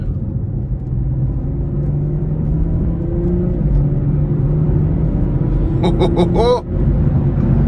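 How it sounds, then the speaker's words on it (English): A 2018 BMW 440i Gran Coupe in Sport Plus mode drones steadily from inside the cabin, engine tone stepping with quick gear shifts, then a short burst of crackling pops near the end before a brief dip. "These shifts are just so incredible in Sport Plus mode."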